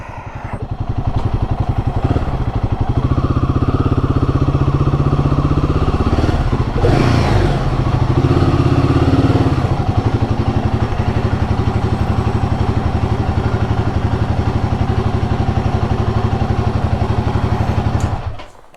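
Royal Enfield Guerrilla 450 motorcycle idling in a garage, a loud close single-cylinder thump throbbing steadily, with a brief blip of revs and clatter partway through before cutting off abruptly at the end.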